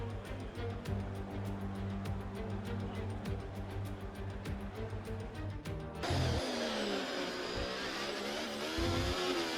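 An F1 car engine during Singapore qualifying in F1 24, a steady buzzing drone that suddenly shifts to a louder, rising, revving whine partway through, with a faint voice underneath.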